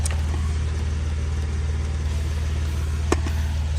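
Ryobi high pressure inflator running outdoors, a steady droning motor hum with a strong low buzz, continuous and close, with a brief click near the end and no talk.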